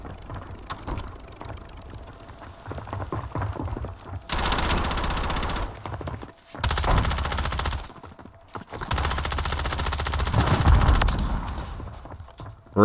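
Gunfire in a Warzone battle royale match: long sustained bursts of automatic fire, loud and close, in several stretches separated by brief pauses, with rattling mechanical clatter and no talk over it.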